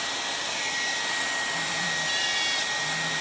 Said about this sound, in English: Get a little hair dryer in the face.